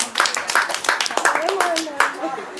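A small group claps for a woman who has just recited a tongue twister correctly at a community gathering. The brief scattered clapping runs under a speaking voice.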